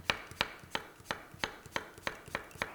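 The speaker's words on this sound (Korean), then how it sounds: "길게 반을 자른 다음에 어슷썰기를 할게요." A knife slices a halved cucumber diagonally on a cutting board, giving eight crisp, evenly spaced chops close by with no talking.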